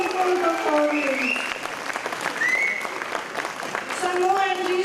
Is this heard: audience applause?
yes